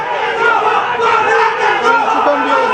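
A crowd at a press conference shouts slogans together in a dense, continuous roar of many voices, loud and sustained with no single speaker standing out.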